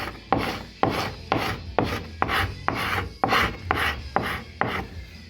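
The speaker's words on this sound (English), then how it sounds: "I'll give that another quick scrape." A tungsten-tip blade scrapes sandless paint stripper residue off a surface in about ten firm, evenly spaced strokes, each a loud rasping burst, close and with no voices.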